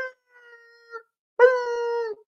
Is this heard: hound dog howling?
yes